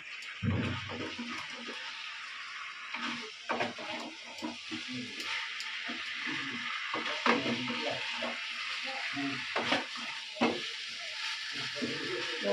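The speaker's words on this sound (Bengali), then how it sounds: "আর একটু কষিয়ে তারপর জল ঢেলে দেবো।" Chicken, potatoes and spices are stirred and sautéed in a pan, with a steady sizzle running under repeated scraping stirs and occasional clanks of the utensil, close and fairly loud, with no voices.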